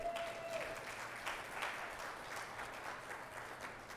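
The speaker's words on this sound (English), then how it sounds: "let me give a big round of applause right now for the amazing work that they do." Audience applause at a fundraiser breakfast, a dense continuous wash of many hands clapping at moderate, even level, somewhat distant.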